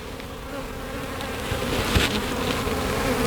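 Dense buzzing of many honey bees on a hive frame, close and continuous, swelling slightly in intensity with no voices.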